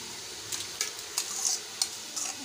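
Chicken sizzles and crackles in a hot pan while a utensil scrapes and stirs now and then, the stirring sounds coming in short bursts.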